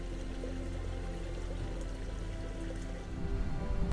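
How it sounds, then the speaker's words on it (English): A small brook trickles near a lake at an RV resort on Lewis Smith Lake in Alabama, giving a soft, steady wash of running water that swells slightly near the end. "If you're really quiet, you can hear the water trickling down the little brook"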